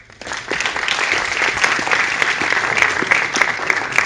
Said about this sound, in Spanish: Por favor, su aplauso para él.